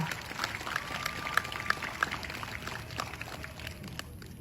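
A rally audience applauding itself: a faint, distant wash of many hands clapping, steady and diffuse like rain, with occasional sharper claps and a thin tone running through.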